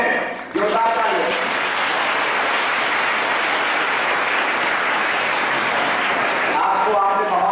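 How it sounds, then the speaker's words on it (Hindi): Loud, dense applause from a college audience during an award presentation, a continuous wash of clapping that swells in early and holds, with brief voices at the start and end. "जोरदार तालियां।"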